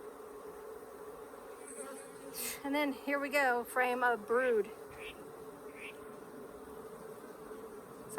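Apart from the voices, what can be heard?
Africanized hybrid honeybees buzzing at an opened hive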